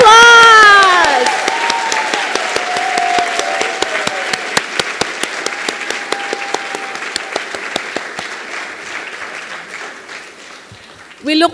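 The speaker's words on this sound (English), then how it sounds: "let's give the students a last round of applause" Applause for nursing students at the 2024 Blue and Gold ceremony of an MSN-MECN program. A voice opens, then strong clapping that gradually thins out into scattered individual claps before fading.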